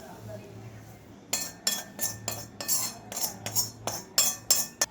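Ghee-greased steel plate taking a spooned sukhdi mixture of millet flour and jaggery, giving a run of about a dozen sharp, close metallic clinks and scrapes in uneven bursts after a quiet start.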